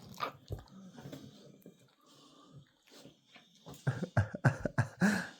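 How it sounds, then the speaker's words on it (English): A dog gnaws and bites at a bike, giving a run of wet, crunchy chomps that grow louder and more rhythmic toward the end, close by, with a voice speaking softly earlier. "Before you start chewing the bike, get down."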